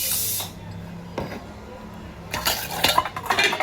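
Bottles and dishes being scrubbed and washed at a sink: a burst of running-water spray, then scattered clanks of glass and metal against each other, growing busier toward the end, with a voice speaking briefly.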